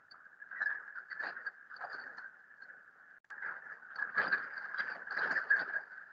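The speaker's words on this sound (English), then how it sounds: "start raining hard, at least here in my home" Heavy rain falls steadily outside a home, a soft, constant patter with irregular bursts that thicken toward the end, heard alone without speech.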